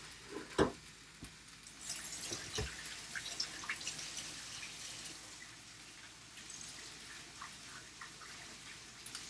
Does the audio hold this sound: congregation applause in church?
no